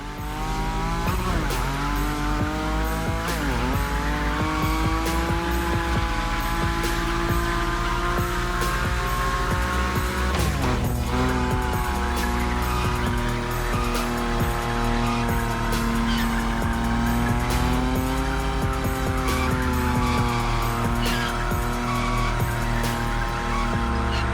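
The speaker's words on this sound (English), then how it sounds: "Your Nismo is powerful enough to slide along on its own when you're at high speed" A powerful Nissan Nismo in The Crew Motorfest video game drifts at high speed, its engine droning loudly and steadily while the tires squeal through long slides.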